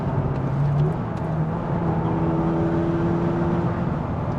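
A Peugeot RCZ's 200 hp BMW-built engine drones steadily at a loud, close level, holding a constant rev with a low rumble and no pauses.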